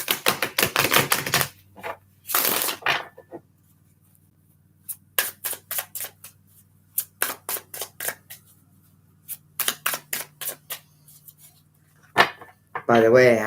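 Gilded Tarot cards shuffled quickly by hand in repeated bursts of crisp riffling and flicking, close and fairly loud, with short pauses between bursts and a brief voice at the start and end.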